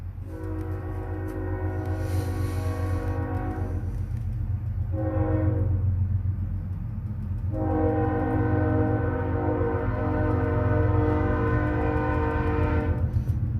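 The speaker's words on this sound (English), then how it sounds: "Now, let me let this train pass." A train rumbles past close by with a loud, steady roar and rail clatter, its horn blaring in long blasts at the start, in the middle and again through the second half.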